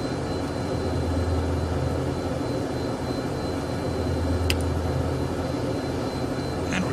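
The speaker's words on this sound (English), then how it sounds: "this was the engine startup procedure on the Flysimware Learjet 35A" Flysimware Learjet 35A jet engines running steadily in the Prepar3D flight simulator, a continuous loud whine and roar with a low rumble, holding even throughout with no talking.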